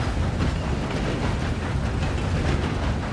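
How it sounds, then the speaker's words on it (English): Steady rumbling train ride in the Red Dead Online video game, a continuous low clatter and rush that holds at even loudness without a break. "We are almost done with this train ride"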